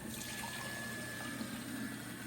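Water sprays steadily from an interactive wand spell effect at Epic Universe, a constant hissing rush that holds at an even level throughout with no talk.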